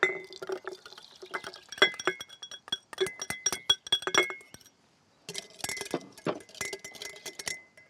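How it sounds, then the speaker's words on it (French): Ingredients for a homemade aphid spray for roses tipped into a large glass jar: sharp glass clinks and knocks with some liquid splashing, close and clear, a short pause, then more clattering. "on met tout ça dans un grand bocal."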